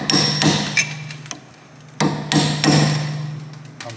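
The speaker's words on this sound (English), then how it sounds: "Use a chisel to remove the cap." Hammer blows on a chisel removing a wheel bearing cap on a Volvo: two bursts of sharp metallic strikes, three or four quick hits each, ringing up close with a short pause between.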